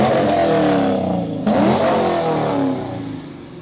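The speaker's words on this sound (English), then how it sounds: "Before you turn it off, rev the engine for me." A 1966 Pontiac GTO muscle car engine revving close by, a loud sustained roar that climbs and falls in pitch through a couple of throttle blips before settling toward idle.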